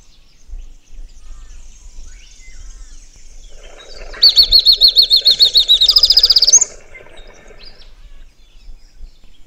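A superb fairywren call: a rapid series of high, thin, trilling notes rising in a short burst, clear against quiet background rustle, then fading.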